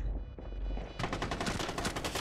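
Covering gunfire in the shooter game Rainbow Six Siege: a low rumble, then from about one second a loud, dense burst of rapid automatic shots hammering continuously, close and without speech.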